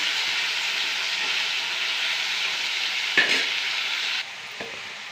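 Pumpkin pieces fry in hot oil, with a loud, continuous close-up sizzle, a spatula scrape just past three seconds, and the hiss easing slightly near the end.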